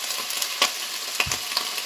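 Shiitake mushrooms sizzle in a hot wok with oil, a steady close frying hiss with a few soft stirring scrapes.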